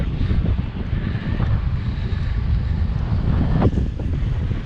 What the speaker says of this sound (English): as you can likely hear from the wind noise, I've got another blockhead wind